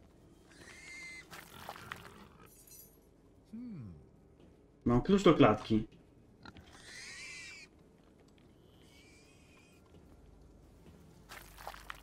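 Pigs in the horror video game Devour give a loud burst of grunting and squealing near the middle, surrounded by quieter eerie game sounds, footsteps and people talking.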